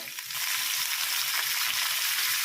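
Mint, green chillies, ginger and garlic frying in ghee in a kadai, a loud, dense, even sizzle that carries on steadily without pause, close up and with no talking.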